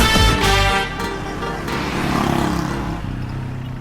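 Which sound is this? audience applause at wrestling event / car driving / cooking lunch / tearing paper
car driving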